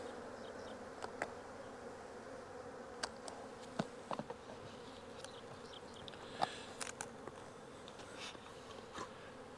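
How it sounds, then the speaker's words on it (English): Honey bees buzz steadily inside a packed nuc box during transfer to full-size equipment, a dense, low, continuous hum with scattered louder passes from individual bees flying close, no voices. "As y'all can see, they're packed full of bees."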